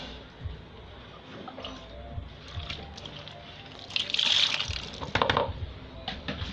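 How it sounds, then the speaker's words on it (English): Dissolved thickener liquid pours and splashes steadily into liquid soap in a container, growing louder and more sloshing midway, with faint voices in the background. "This is my thickener powder. It is dissolved in water. I'm going to pour it inside."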